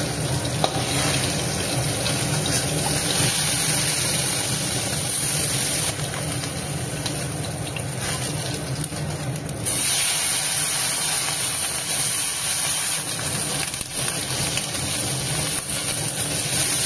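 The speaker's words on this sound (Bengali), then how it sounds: "দেখো ট্যাংরা মাছগুলো ভেজে নিচ্ছি।" Tangra fish frying in hot oil in a home kitchen, giving a steady dense sizzle and hiss that continues without a break, with small shifts in level.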